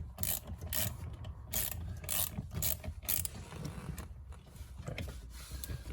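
A ratchet tightening steering wheel bolts on a Porsche Boxster 986, repeated quick clicking strokes in bursts up close, with rubbing and mechanical rattles between them.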